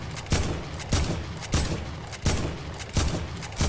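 Gunfire in Fortnite, with about six loud, evenly spaced shots a little over half a second apart, each a sharp crack with a short tail and no talking.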